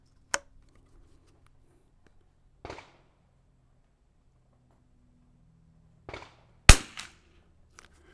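Sporter rifle shots, including an Anschutz 54, crack one at a time at an outdoor shooting range: about five sharp reports spaced several seconds apart, with quiet between them and the last two close together.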